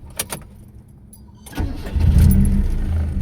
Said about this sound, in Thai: เดี๋ยวติดเครื่องให้ดูนะครับ